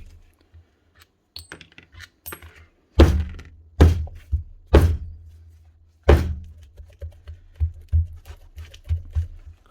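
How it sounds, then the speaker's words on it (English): A power tool gearbox on a Makita or Bosch tool is cracked open by hand, giving a run of sharp knocks and thunks followed by lighter scattered clicks and taps of parts close up. "Crack it open like an egg."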